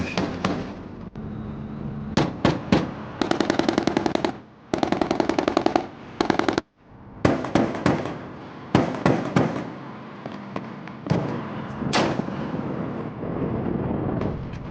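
A LAV-25 armored vehicle fires its 25mm automatic cannon and paired 7.62mm machine guns in rapid staccato bursts, loud and close, with short pauses between volleys and no talk over it.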